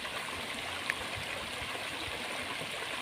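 Water rushing down a natural waterfall used as a rock slide, a steady broadband roar with no breaks, fairly loud and close.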